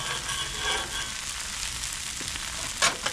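Food sizzles and fries on an outdoor backyard griddle in cold weather, a steady close crackling hiss with a couple of sharper spatters near the end.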